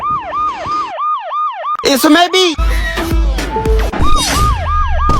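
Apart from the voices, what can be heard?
siren sound effect from an air conditioner, comedy clip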